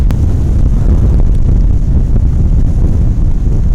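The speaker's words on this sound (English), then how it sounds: "it's windy here" Strong wind roars steadily and loudly across the microphone, a dense low rumble buffeting throughout with no talk.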